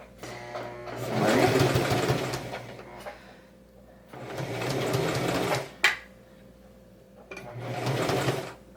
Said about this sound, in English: I'm going to go slow and I'm going to thoroughly take my time. And yes, I sew through my pins.